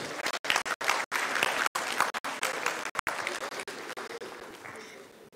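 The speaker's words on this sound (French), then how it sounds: "Sous vos applaudissements, s'il vous plaît." Audience at a FANAF 2019 conference awards moment claps steadily, a full room of applause with sharp individual claps standing out, gradually easing toward the end.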